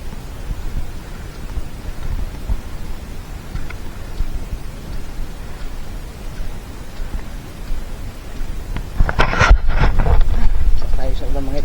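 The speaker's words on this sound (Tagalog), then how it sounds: "Tayo sa ulan mga idol." Rain falling in the mountains, a steady soft hiss of downpour that swells louder toward the end with a sharp burst of noise, while someone talks over it.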